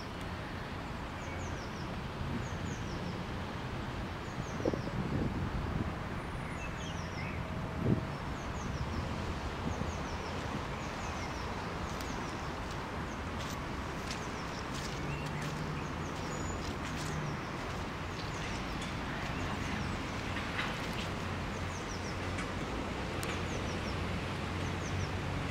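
Faint birdsong and chirps scattered through steady outdoor wind and rustling in a park, with occasional soft knocks; no one speaks.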